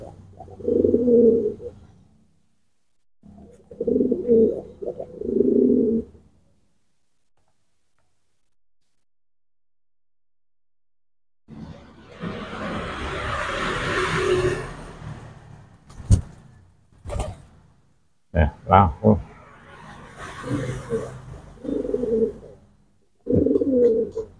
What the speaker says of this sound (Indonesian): agar burung merpati ini giring harus diberi panas-panas ini harus dipanas-panasi dengan merpati jantan lain